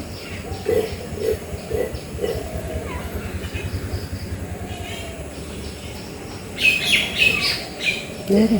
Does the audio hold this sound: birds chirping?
yes